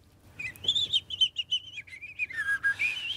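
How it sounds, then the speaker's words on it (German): A European robin sings a run of high, warbling whistles and chirps that rise and fall in a continuous phrase, close and distinct above a faint low hum. "Und das Rotkehlchen macht auch so ähnlich,"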